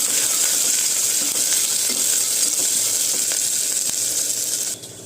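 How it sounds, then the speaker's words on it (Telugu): Sliced onion and green chillies frying in a pan for coconut rice, a steady close sizzle throughout with occasional stirring scrapes, easing off at the end. "ఒక ఆనియన్ మూడు పచ్చిమిర్చి సన్నగా ముక్కలుగా కట్ చేసుకుని అవి కూడా వేసుకోవాలి అవి కొంచెంగా ఫ్రై అవ్వనిద్దాం"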